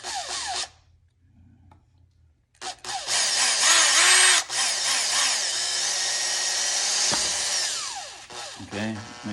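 A power drill bores through a new window screen frame to fit a screen plunger. After a short silent gap, a loud, close drill whine rises and holds for several seconds, then winds down with a few softer knocks.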